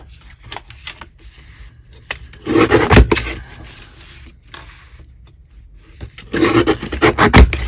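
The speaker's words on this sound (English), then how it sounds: "I'm just literally going to trim them like this" Paper pages for a no-sew mini journal are trimmed by hand, giving close, loud bursts of rasping cuts and scraping strokes separated by quieter pauses.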